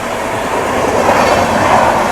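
The Avadh Assam Express, running from Lalgarh in Rajasthan to Dibrugarh in the Northeast, rumbles past at close range as a steady, loud roar of rolling coaches that swells slightly toward the end.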